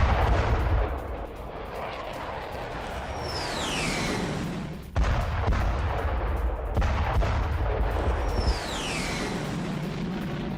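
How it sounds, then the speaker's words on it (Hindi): Heavy, continuous booming and roaring from a US warship firing strikes on Iranian targets, with two blasts and rising whooshes of launches over a dense, loud rumble lasting throughout. "युद्धपोत से ईरानी ठिकानों पर किए गए हैं हमले"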